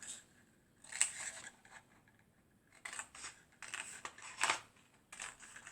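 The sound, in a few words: scissors cutting paper for 3D card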